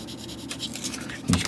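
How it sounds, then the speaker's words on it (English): Sandpaper rubbing by hand on a plastic 1:12 Tamiya Yamaha YZF-R1M model motorcycle fairing gives soft, close, faint scratchy strokes in a brief burst. "you can see I'm still only using the very edge of the sandpaper"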